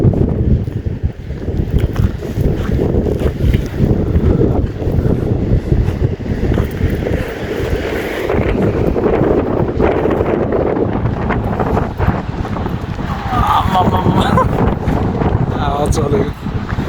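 Strong wind gusts buffet a hilltop tower construction site in a steady, loud roar that holds for the whole stretch with no break.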